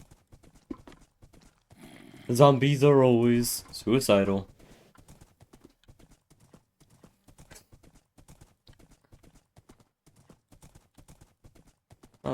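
Horse hooves clip-clop in the Minecraft video game as a soft, steady patter running through the clip, with someone talking briefly near the start over the footsteps.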